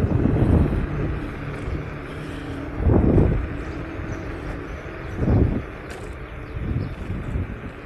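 Riding a Varla Eagle One electric scooter with dual 1000-watt motors, the sound is dominated by heavy wind rush over the microphone with a few louder gusts, plus a faint motor whine underneath.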